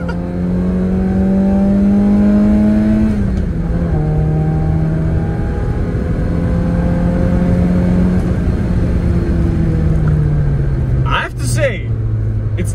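A Citroën AX 1.1 with a naturally aspirated 1.1-litre engine, tuned with a cold air intake, accelerates hard from standstill, engine note climbing through several gears with brief dips at each shift, loud and close, a sharp knock near the end.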